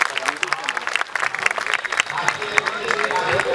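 Audience applause at a women's reservation bill event, a ragged run of individual claps of uneven rhythm, fairly close, with some voices and crowd noise mixed underneath.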